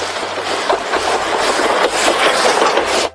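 A small toy Thomas train runs steadily with a continuous mechanical whirring and rattling clatter, close and loud, without voices.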